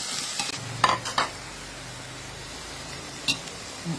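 Lotus stems stir-fried with minced pork in a pan give a steady soft sizzle, with a few sharp scraping clinks of the utensil against the pan.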